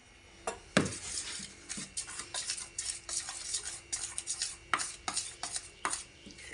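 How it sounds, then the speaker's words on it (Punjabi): Batter for bottle gourd (lauki) chilla being whisked in a bowl, with quick, irregular clinks and scrapes of the utensil against the bowl. The sound is close and fairly faint, with no talking. "ਉਨੀ ਦੇਰ ਤੱਕ ਆਪਾਂ ਘੋਲ ਨੂੰ ਚੰਗੀ ਤਰ੍ਹਾਂ ਘੋਲ ਲੈਣੇ"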